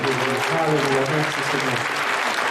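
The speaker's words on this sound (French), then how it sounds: "Nous pouvons applaudir notre Seigneur." Sustained applause fills a French-language church gathering in Carmaux, a dense even wash of clapping from a large crowd while a voice calls out over it.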